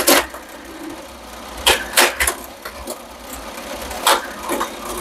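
The mechanism of a vintage Tomy Astro Shooter pinball toy runs with a steady mechanical whir, broken by sharp, irregular clacks and knocks from the playfield up close.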